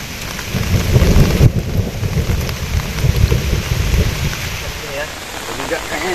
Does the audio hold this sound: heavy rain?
yes